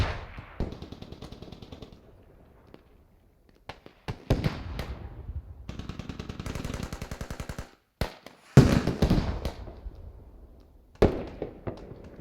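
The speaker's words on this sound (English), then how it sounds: "They're throwing a grenade" Sharp blasts and bursts of automatic gunfire crackle through a tactical online shooter match, loud explosive hits punctuating stretches of rapid rattling fire with short pauses between.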